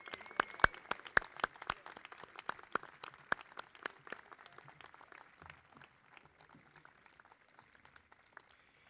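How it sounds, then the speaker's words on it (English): Scattered hand claps at a university induction ceremony, sharp and fairly close at first, then thinning into a faint, sparse patter of applause by the end. "Can we just give all of the parents, grandparents, and everybody who made today possible for you a round of applause?"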